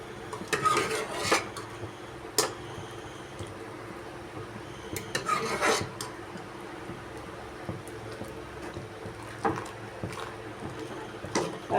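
Mashed dal stirred into boiling sambar in a pot, with repeated clinks and scrapes of a ladle against the metal and soft wet squishing, close up and without voices.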